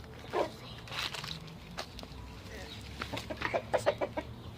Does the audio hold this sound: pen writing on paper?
no